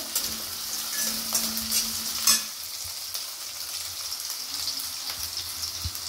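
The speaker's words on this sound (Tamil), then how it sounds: "வெங்காயம் கொஞ்சம் வதங்கட்டும்." Onions sauté in a hot pan for mushroom chukka, a steady sizzle and fry with brief stirring scrapes early on, then settling into continuous close crackling.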